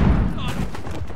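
Gunfire in Call of Duty: Modern Warfare III, a quick loud burst of shots up close under a brief moment of play.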